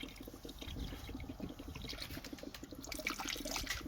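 Water bubbling and gurgling into a car's cooling system as it is filled during a water pump and timing belt job on an Astra Z18XE engine, a steady close trickling that grows busier near the end.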